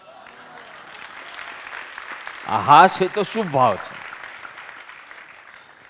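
An audience at a spiritual discourse claps in a soft, diffuse wash that runs in the background, and a voice then speaks briefly over it near the middle.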